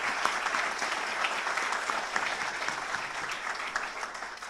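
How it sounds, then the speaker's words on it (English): An indoor audience at a student news awards ceremony claps for the parents, a dense, steady round of applause that holds for several seconds and then starts to fade. "a big round of applause"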